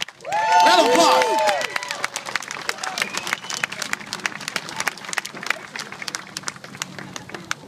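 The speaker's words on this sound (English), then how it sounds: "Round of applause." Audience applause, opening with a loud burst of cheering and whooping voices, then settling into sustained clapping that tapers off over several seconds.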